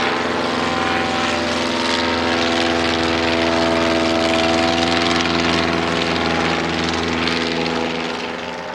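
A vintage box-type aeroplane powered by a 100 horsepower Rolls-Royce Continental engine drones past at an evening air display, a loud, steady propeller hum with strong tonal harmonics that holds throughout and fades slightly at the end.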